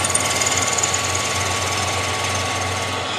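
A drill press drills into wood, a continuous mechanical whir with a rapid rattling buzz, steady and close, grinding through the material without pause.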